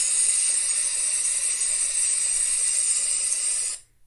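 A burning hiss used as a sound effect for a demon's mouth scorching as it bites, steady and loud like steam venting, then cutting off abruptly near the end.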